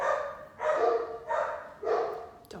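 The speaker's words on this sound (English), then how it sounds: "Don't mind my dogs barking." Dogs bark indoors during a home haircut, four loud close barks in quick succession, each sharp and full, with a brief pause between them.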